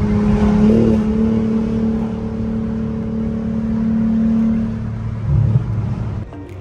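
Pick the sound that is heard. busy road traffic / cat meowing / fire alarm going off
busy road traffic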